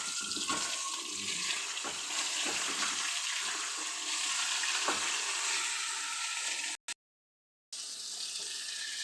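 Fish frying in a pan for a home lunch, a loud steady hiss and crackle of hot oil with small popping spatters throughout, close up, briefly cutting out near the end before resuming.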